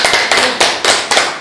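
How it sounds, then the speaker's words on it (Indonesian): Bursts of applause from a farmers' gathering, loud and close, with several rhythmic waves of clapping and sharp hand taps in quick succession. "Aplaus untuk kita."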